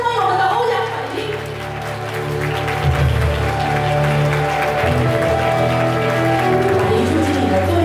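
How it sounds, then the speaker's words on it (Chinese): Applause from an audience welcoming a speaker at a promotion ceremony, a steady sustained clapping under music-like tones throughout. "掌声欢迎我们的欧阳凯婷"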